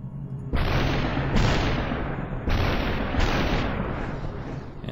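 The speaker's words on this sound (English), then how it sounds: "apparently it's like 3 or 4 shots every time I squeeze the trigger" Loud bursts of gunfire from a weapon in the video game SuperHot, two long rattling volleys that each start abruptly and trail off, filling the clip with no talk over them.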